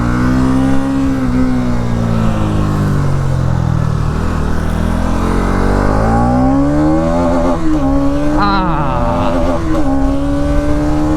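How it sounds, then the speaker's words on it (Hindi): A Bajaj Pulsar NS 200 BS6 motorcycle's exhaust revs loudly and close up, the engine note climbing and falling through several throttle blips with a sporty rasp, no talking over it. "एग्जॉस्ट नोट जो है वो काफ़ी स्पोर्टी है।"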